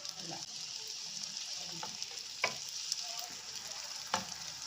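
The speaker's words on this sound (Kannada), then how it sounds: "ಈಗ ಒಂದೊಂದೇ ಪೂರಿ ಇದ್ರೊಳಗಡೆ ಹಾಕ್ಕೊಂಡು" Puris for pani puri frying in hot oil, one at a time: a steady crackling sizzle with a few sharper pops and bubbling bursts, close up and with no one talking.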